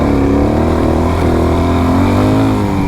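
A Suzuki DRZ400 dirt bike pulls hard in second gear on a trail ride, with a loud, close, continuous engine note that climbs steadily as it accelerates, no voices.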